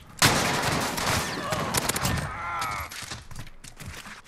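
PP19 Bizon gunfire in Modern Warfare: loud bursts of rapid shots and heavy in-game gunfire crowd the first seconds, then thin into scattered shots and rumble.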